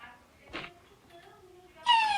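A cat meows once briefly, then a longer, louder rising meow near the end, with quiet background noise between.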